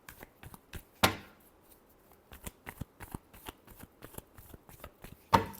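Tarot cards shuffled by hand during a reading, a run of soft papery riffles and taps with two sharper, louder card snaps standing out, close and alone with no talk.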